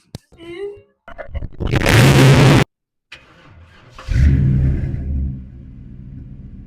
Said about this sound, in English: Let's get a little exhaust clip going.